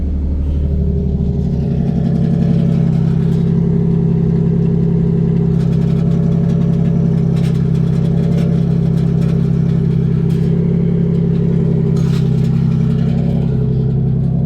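A car engine with blown-out exhaust baffles drones loudly and steadily with a deep, raspy exhaust rumble, idling close by with occasional clattering.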